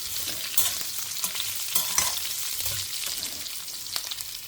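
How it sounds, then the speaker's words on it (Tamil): Urad dal crackling in hot oil during home cooking in a Tamil kitchen, a steady close sizzle peppered with small pops and brief stirring clicks, no voices. "உளுத்தம்பருப்பு ஆட் பண்ணியிருக்கேன். ஆல்ரெடி வந்து பொரிய ஆரம்பிச்சுடுத்து."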